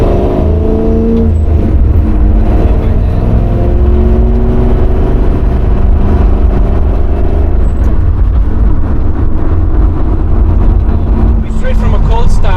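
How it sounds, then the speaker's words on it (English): A 1969 Shelby GT350 V8 driving just after a cold start, a loud, steady engine drone heard from on board with gear changes and revving, while people talk over it. "Straight from a cold start, it goes pretty well."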